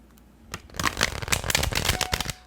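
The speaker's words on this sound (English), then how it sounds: "One last shuffle." A tarot deck being shuffled: a dense, crackling riffle lasting about two seconds, close and fairly loud, with no voices.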